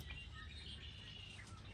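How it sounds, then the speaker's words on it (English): Birds sing at golden hour along a desert trail by the Salt River in Arizona, with thin high chirps and tweets over a steady bed of insect buzz, faint and distant. "we still got to listen to the beautiful birds at golden hour"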